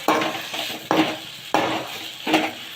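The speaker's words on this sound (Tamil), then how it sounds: "நல்லா கிண்டணும்" Mushrooms fry in a pan for a curry, scraped by a utensil in four distinct stirring strokes with clinks against the pan, all over a soft sizzle.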